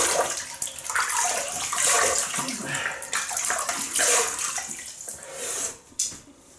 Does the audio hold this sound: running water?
yes